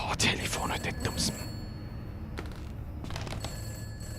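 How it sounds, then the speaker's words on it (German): Telephone ringing inside the horror video game Summer of 58, a steady electronic ring sustained throughout, with a voice talking over the first second and a half. "Oh, Telefon"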